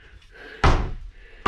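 A full-extension ball-bearing drawer in a tiny-house linen cabinet shuts with one sharp, loud thump, after which the sound dies away. Another short knock comes at the very end.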